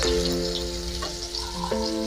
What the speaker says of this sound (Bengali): একটু নাড়াচাড়া করে একটু ভাজা ভাজা করে নিচ্ছি আমি আলুগুলো